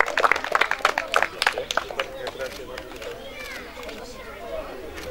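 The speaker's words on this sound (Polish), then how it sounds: "Brawa." Brief applause at a handball tournament award ceremony, a burst of clapping from a small crowd that quickly fades into murmuring chatter and indoor hall noise.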